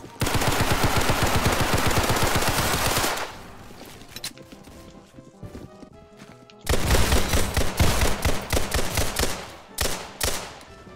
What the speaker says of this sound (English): Let's see if I can control the recoil or not.